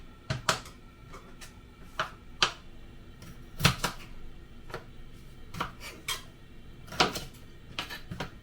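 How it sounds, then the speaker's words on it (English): A knife cuts through unpeeled Charlotte potatoes on a board, giving a series of sharp, irregular taps and knocks close by, spaced about every half second to second, with no talking. "I don't peel them, just cut them like that"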